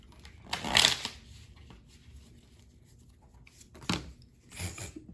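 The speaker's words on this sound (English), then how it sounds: "shuffle one more time" Tarot cards are riffled and shuffled in a few quick, papery bursts, close by, with quieter handling in between.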